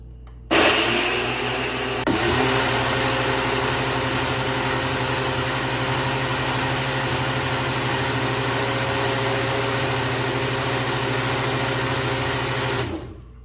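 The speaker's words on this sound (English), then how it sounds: "Let it blend up some of the ice, which you don't have to use." Nutri Ninja blender crushing ice for a smoothie, a loud steady high-pitched motor roar that starts abruptly and runs continuously for over twelve seconds before cutting off, with no talking.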